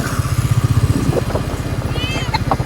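A motorcycle idles with a rapid putter beside a road as it is brought to a stop and parked, its engine thrumming steadily close by while a person talks over it.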